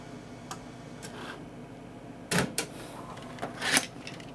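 A Zip drive in a blue and white Apple PowerMac G3 ejects a disk: faint ticks, then a sharp mechanical clack and a second whirring clatter in a quiet room.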